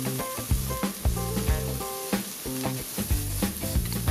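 Shrimp oil and garlic with cabbage stir-fry in a hot wok, giving a steady loud sizzle with scraping tosses, all under background music.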